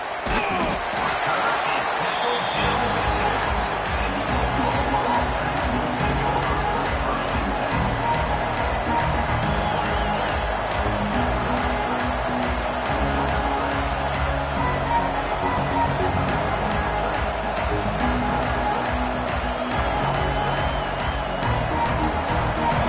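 A deafening stadium crowd roars without letup at the Oklahoma at Michigan football game, a thick sustained wall of noise with faint commentary voices beneath it.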